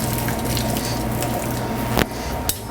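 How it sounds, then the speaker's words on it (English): Boiled potatoes are lifted and strained from their cooking water with a spider strainer, giving close, continuous watery sloshing and dripping, with a couple of sharper splashes near the end. "we're gonna grab our spider strainer, and we're gonna strain out the potatoes next"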